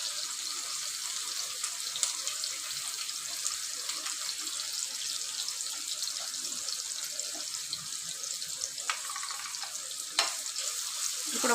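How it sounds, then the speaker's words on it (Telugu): Chopped onions and green chillies fry in a hot pan with oil, a steady near sizzle and crackle throughout, with an occasional scrape or clatter of stirring. Nobody speaks. "ఆనియన్స్ ఫ్రై అవ్వాలి."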